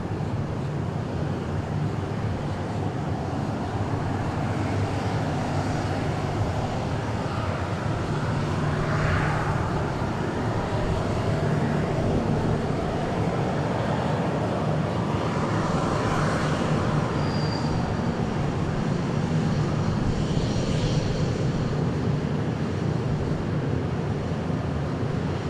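A jet departing from the FBO side of Dallas Love Field makes a steady, broad engine roar that holds at a loud level throughout, with wind-like rush and no voices.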